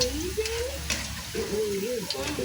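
Pork for baboy calderita fries in a pan with an uneven crackling sizzle and occasional stirring scrapes, while a voice talks over it.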